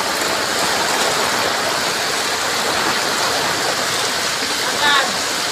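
Risen floodwater rushes beneath a bridge in a flooded subdivision, a steady, loud broadband roar of churning water close by that holds throughout without pause.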